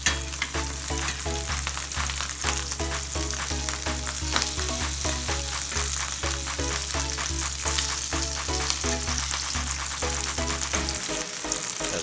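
A buttered grilled cheese sandwich fries in a pan just after being flipped, giving a loud, steady close-up sizzle with crackling pops that runs throughout and eases near the end.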